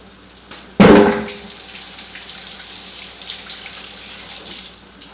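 Tap water bursts out at a kitchen sink in one loud, sudden gush that fades quickly to a quieter background, with no talking.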